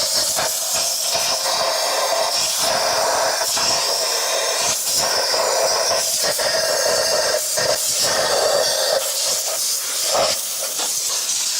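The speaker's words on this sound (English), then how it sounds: "take some compressed air. You want to blow out around each one of the spark plugs" Compressed air blasts steadily around the spark plug wells of a Suzuki engine, a loud, continuous close-up hiss with slight pulsing variations throughout.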